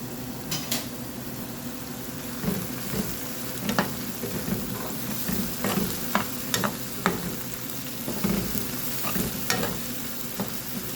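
Onions frying in a pan for a carbonara made with cooking cream and butter, a steady close sizzle broken by repeated scraping stirs and light clinks of the utensil against the pan.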